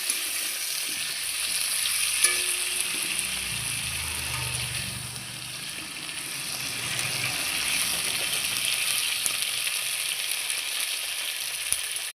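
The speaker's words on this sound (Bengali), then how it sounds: "এবার আমি মাংস তরকারির মতো আলুটাকে লাল লাল করে ভেজে নিচ্ছি।" Potatoes marinated with salt and turmeric fry in hot oil in a pan, giving a steady, close, continuous sizzle that holds at an even level throughout with no talking.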